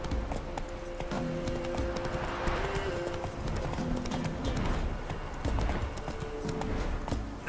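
Roach, the horse in The Witcher 3, gallops with a steady, rapid clip-clop of hooves at moderate distance, accompanied by quiet game music.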